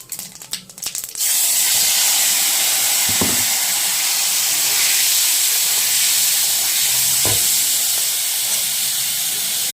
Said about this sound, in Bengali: আর এখন এই শালগম আর আলুটা এর মধ্যে ভেজে নেব।